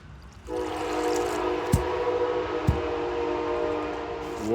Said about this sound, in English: that's the train going to Chicago, that's the Amtrak